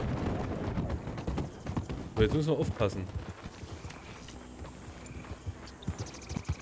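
Horse hooves clip-clopping at a steady rhythm while riding through Saint-Denis along the rail tracks in Red Dead Redemption 2, someone talking over the hoofbeats with a brief louder burst midway.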